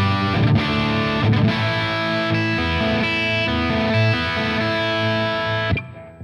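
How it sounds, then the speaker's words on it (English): A heavily distorted electric guitar played through an EVH 5150III Stealth tube amp on the bridge pickup rings out with sustained, saturated chords, loud and continuous, with a few choppy strums before the sound cuts off near the end. "There's already a plenty of distortion in the middle position"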